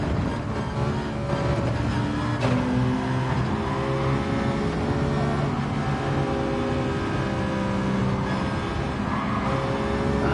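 A continuous car engine drone from a racing video game with a Bugatti Veyron going by, a steady rumbling hum with shifting tones and no distinct pass-by peak, no talk over it.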